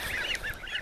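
A flock of domestic geese being treated for illness honks in repeated nasal calls, several birds overlapping at fairly close range with a steady, slightly noisy background.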